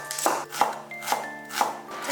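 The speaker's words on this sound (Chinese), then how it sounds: "再来切一点葱和姜，" A knife chops scallions and ginger on a board while preparing sweet-and-sour hairtail fish: four crisp, evenly spaced strikes about half a second apart, close and moderately loud over soft background music.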